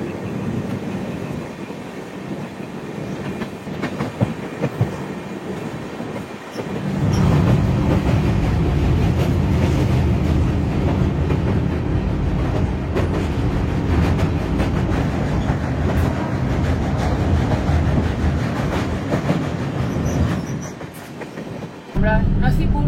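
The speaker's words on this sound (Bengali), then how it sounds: "নসিপুর রেল ব্রিজ ক্রস করলাম, যেটা তৈরি হয়েছে ভাগীরথী নদীর উপর।" A train on the Azimganj to Sealdah route rolls across the Nasipur rail bridge over the Bhagirathi river, a loud continuous rumble and rattle of wheels and cars that swells after a quieter start, with brief voices underneath.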